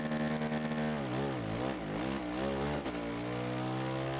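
A motorcycle engine in the Ride 3 racing game revs continuously while the bike pulls a wheelie, its pitch dipping and rising in waves before holding a steady high drone, loud and alone.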